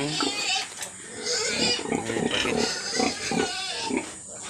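A sow and her piglets, only one day old, grunt and squeal close by in a farm pen, with their busy overlapping oinks heard under a man's speech.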